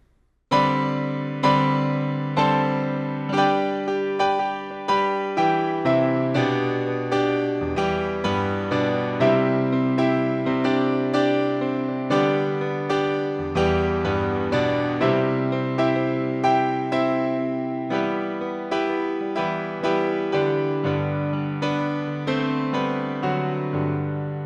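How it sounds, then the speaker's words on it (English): Solo piano plays the chorus of a song, a steady stream of chords and melody notes over a moving bass line, close and continuous for about twenty-five seconds, with no talking. "Alrighty, now we get into the chorus,"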